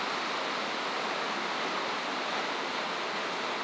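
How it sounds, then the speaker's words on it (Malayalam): Heavy rain pours down in a dense, unbroken hiss, a loud and steady roar of falling water that fills the whole stretch with no break. "ഭയങ്കര മഴ."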